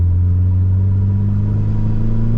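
A Mitsubishi Evo 8 engine idles steadily just after its first start, a loud, continuous low rumble close by with a constant, even tone and no talking.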